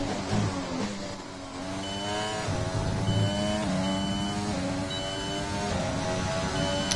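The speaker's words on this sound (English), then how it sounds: "That beeping is just like my my gears. It's like a suggested audio gear tone." In the F1 2020 racing game, a steady high beeping gear-shift tone repeats over a loud, rising and falling Formula One engine whine during a Russian Grand Prix race, with no voices.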